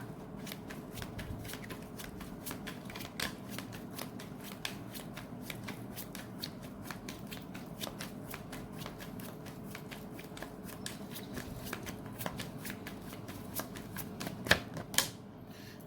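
Tarot cards being shuffled close up, a long run of quick crisp riffling clicks and flutters with a few louder snaps near the end.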